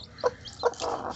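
Native desi chickens at a hatching with new chicks make a few short, clucking calls close by: two quick separate clucks, then a longer run of chatter, with no talking.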